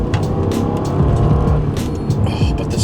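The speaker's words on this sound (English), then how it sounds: "And this is a stock exhaust." A twin-turbo V8 car engine with stock exhaust roars and revs hard, with a deep rumbling exhaust and sharp bursts of higher noise, loud and close.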